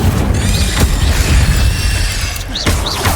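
The Incendio fire spell is cast in Hogwarts Legacy with a loud whooshing fire burst over dense game effects, joined by sharp impact thumps and rising magical swooshes.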